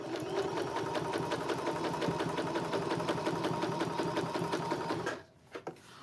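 A Janome sewing machine stitches at a quick, even pace, its close mechanical whirr and rapid needle ticking running steadily for about five seconds before stopping with a couple of small clicks.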